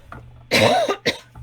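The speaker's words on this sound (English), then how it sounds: "I might have to cough once or twice where I'm talking a lot" A close, sharp cough, followed a moment later by a second shorter cough, in an otherwise quiet room.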